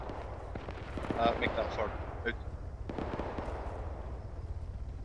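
Shells land far off on the north side of a town in Arma 3, as dull distant booms and rumbles under a low battlefield hum, while someone speaks over the radio.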